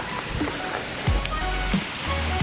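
Small river flowing past a park bench in a city garden in Rennes, a steady close wash of running water that fills the whole clip, with a few low thumps over it.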